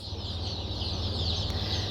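Steady chorus of small birds peeping and clucking, continuous and fairly close, with a low hum underneath.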